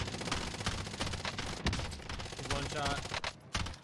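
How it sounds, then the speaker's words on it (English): Rapid bursts of automatic gunfire crackle through a battle royale video game firefight with a large team, dense overlapping shots near and far while a player talks over the action. "try to put some shots out."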